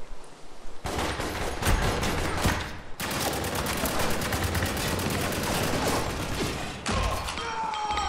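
Sustained turret machine-gun fire in the video game Spec Ops The Line, heard as dense, loud, rapid bursts with heavy thuds across the whole stretch, with brief breaks between volleys.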